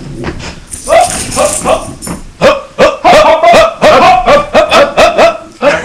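A dog barks close and loud in a quick run of sharp, repeated barks, with some yips and whimpering sounds, and faint talk before the barking begins.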